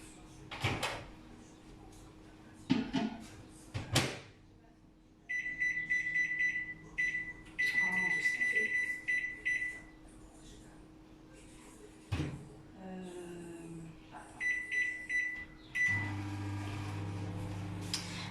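A microwave oven melts 30 g of butter for 30 seconds at 600 watts, with a door opening and closing, button beeps and a steady hum, and a voice talks quietly at the start.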